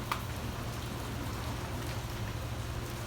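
Steady rain falls in Key West, a continuous even hiss of drops with a low rumble beneath, close and unbroken, with no voices.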